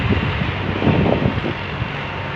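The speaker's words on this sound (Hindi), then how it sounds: "खुले माहौल में हवा चल रही है" Wind sweeps across an open park in rainy weather, a steady, rough buffeting rush against the microphone with low gusty swells and no voices.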